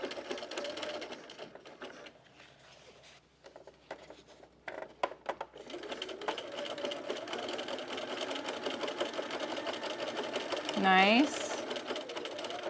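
A sewing machine stitches a bralette seam, running close and steady with a rapid mechanical whir and brief pauses, while a person talks over it.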